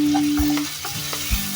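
Masala for a pea and chicken curry sizzles loudly in a pan, with a spoon scraping and stirring through it in a couple of distinct strokes.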